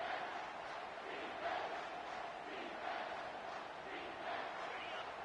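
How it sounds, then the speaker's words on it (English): A home crowd at a Tennessee vs Michigan football game roars steadily through a third-down play, a dense, sustained wall of cheering with slight swells and no clear individual voices. "Here comes this home crowd as the defense tries to get off the field on third down."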